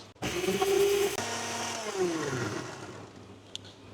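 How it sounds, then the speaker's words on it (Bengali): An electric kitchen blender whirs loudly as it grinds spices for a fish curry, a short high-pitched run that changes pitch, then spins down and fades over a few seconds. "এইভাবে আমি সবগুলো মশলা ব্ল্যান্ড করে নিয়েছি"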